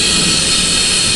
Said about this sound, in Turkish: Çok küçük bir delikten buhar kaçırmakta.